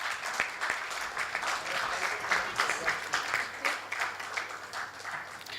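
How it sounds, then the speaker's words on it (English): A conference audience claps for panelists, continuous moderately loud applause with individual claps audible, fairly distant in a large hall. "Can we give them a huge round of applause"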